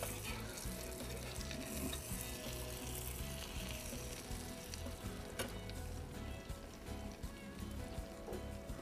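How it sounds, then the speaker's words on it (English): Salmon frying in vegetable oil, a continuous close-up sizzle and crackle with some stirring, fairly quiet and steady throughout. "Does it matter what kind of oils you use when you're frying like this?"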